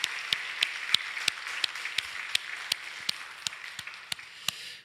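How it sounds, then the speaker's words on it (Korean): A church congregation at a lay testimony festival gives a short round of applause, a steady run of distinct, fairly quiet claps heard without talk. "큰 박수 해주시기 바랍니다"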